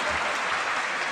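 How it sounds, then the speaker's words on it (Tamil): A crowd at a Tamil comedic speech event claps in a short, even burst of applause. The clapping is dense and continuous and comes through on its own, with no talk over it. "கைதட்டுமே எப்படி வந்துச்சு?"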